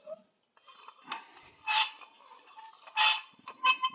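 Vintage Keen Kutter hand-crank meat grinder, Model 22½, turned at a counter: metallic rasping scrapes come in uneven bursts, with two stronger grinding strokes and quieter clicks and rubbing between them.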